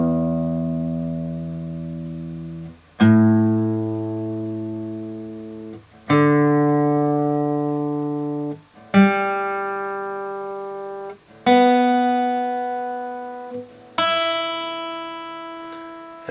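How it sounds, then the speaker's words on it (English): Open guitar strings struck one at a time in six separate ringing plucks, each sustaining and slowly decaying before the next, clear and close with no talk. "just go over the strings again just to make sure they are still in tune"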